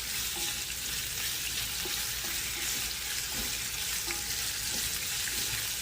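Chicken pieces stir-frying for spicy Kung Pao chicken in a hot frying pan, a loud continuous sizzle with scraping stirs and watery crackle, close up and without talk.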